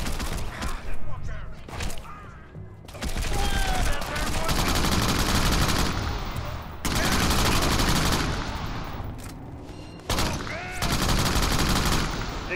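Gunfire in Crackdown on Xbox 360 comes as loud, rapid automatic bursts lasting a few seconds each, separated by short pauses and mixed with thuds and mechanical clatter.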